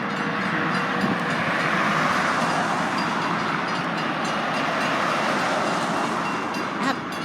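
A freight train rolls steadily past a road crossing, a loud, continuous rumble and wheel noise filling the whole span with no voices.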